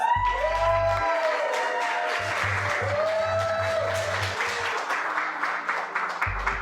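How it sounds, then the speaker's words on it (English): A studio audience at a game-show finale claps and cheers in a steady round of applause, with music tones sounding underneath throughout. "For Michelle, let's hear a round of applause."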